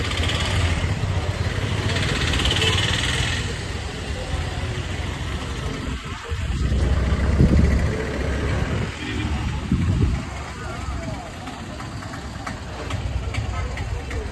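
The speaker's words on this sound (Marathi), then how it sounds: "आमचा लोकल रिक्षा स्टँड आहे इथे." Several auto rickshaw engines idle at a local rickshaw stand in a busy Kerala market, a steady close motor drone with traffic noise and voices talking over it.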